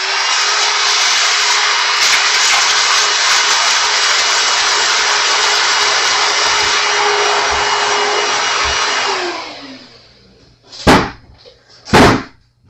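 A rubber eraser scrubbing the frets of a Steinberger guitar gives a long, loud, steady abrasive rubbing for about nine seconds, then stops, followed by two sharp knocks near the end.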